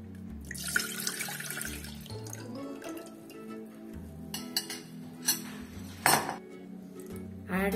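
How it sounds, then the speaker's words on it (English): Ragi (finger millet) milk is poured into a container in a kitchen, with soft liquid splashing, faint clinks of utensils and a tap-like trickle, all fairly quiet beneath gentle background music. "So pour the milk in a container."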